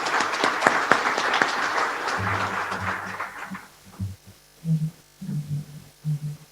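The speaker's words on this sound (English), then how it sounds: "Please join me in a round of applause." An audience at a credit union's 2021 annual meeting gives a round of applause, a steady wash of clapping that fades after a couple of seconds, leaving a low hum and a few soft thumps.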